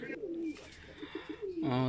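A Chikon Maya pigeon, a high-flyer breed, coos close by in a few rolling, throaty phrases, with a louder burst at the end and faint background noise.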